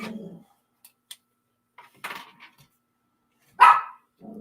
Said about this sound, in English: Sorry, the dogs are barking. I don't know what's going on upstairs.